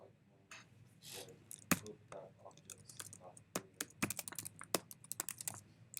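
Typing on a computer keyboard while coding, irregular bursts of close clicking keystrokes that grow faster and denser toward the end, with a person talking faintly between them.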